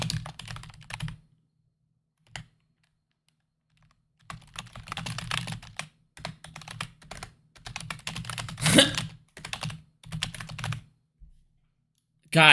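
Typing on a computer keyboard lying flat with its rear feet folded in, heard as scattered bursts of clicking keystrokes with gaps between them and brief vocal sounds in between.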